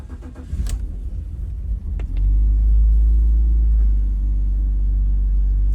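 A 2004 BMW E46 325i Touring cranks briefly and catches on the first try after a jump start, settling into a loud, steady idle rumble that runs on alone.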